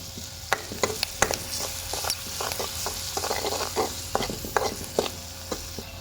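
Onion roasting in a pan for Punjabi baingan bharta, with ghee and water: a steady soft sizzle under repeated scraping and stirring clicks from a utensil, close and fairly loud, with no talk.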